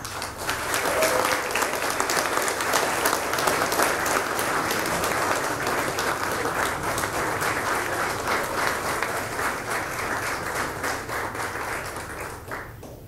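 A Fleet Week crowd at Gracie Mansion claps for the sea services, sustained, even applause carrying on for many seconds and easing a little near the end.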